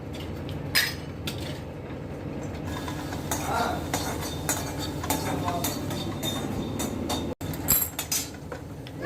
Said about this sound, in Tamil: இந்த பச்சை வேர்க்கடலை அதுக்காக நல்லா வறுத்துட்டு தோல் உரியிற அளவுக்கு வறுத்துக்கோங்க